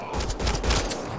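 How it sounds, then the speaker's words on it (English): A burst of gunfire in the sci-fi shooter Mass Effect: Andromeda, with several rapid close shots running together as a fusillade for just over a second, loud and with no talking over it. "They shot him!"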